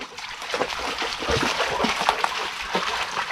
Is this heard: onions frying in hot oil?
no